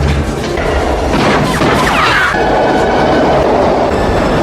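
A speeding train in the 1997 film The Jackal rushing past, a loud continuous roar with rattling and a brief high metallic screech midway.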